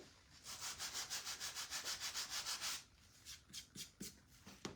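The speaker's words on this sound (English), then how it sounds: "now I'm just going to use the edge, the side of the sander" A handheld sander rubs paint off a craft mug, a steady run of rhythmic scrubbing strokes for a few seconds, then shorter, scattered scrapes; close and fairly quiet with no talk.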